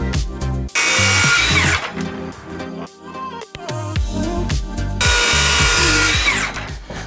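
A power tool trims a quarter inch off the bottom of a wooden board, the loud whine running in two long bursts separated by quieter clatter and handling sounds.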